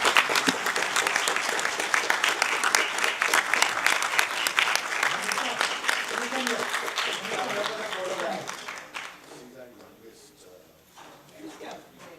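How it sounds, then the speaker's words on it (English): Audience at a national workshop on post-disaster mental health gives the organiser a sustained round of clapping, dense and loud for about eight seconds, then thinning into scattered claps and room murmur. "Please give her a good clap."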